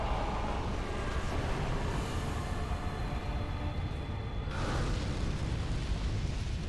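A loud, sustained explosion from the video game Dark Souls 3, a dense rumbling roar filling the whole clip with a second surge of blast noise near the end, no voices present.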